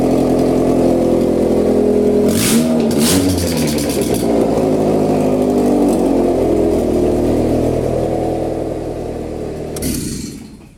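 A Honda Accord engine runs with its intake manifold removed, a steady loud mid-pitched rumble that dips and wavers briefly before tapering off near the end, with no talking.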